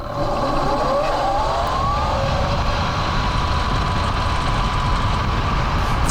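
A 120 V, 27 kW electric drift trike on its first timed acceleration run at 360 phase amps with a 6-to-1 gear ratio, a steady loud motor whine rising in pitch under constant road and wind roar.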